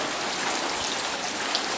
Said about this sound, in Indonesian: itu suara hujan ya?